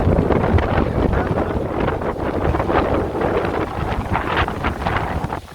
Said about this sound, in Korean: 바람 엄청 불어요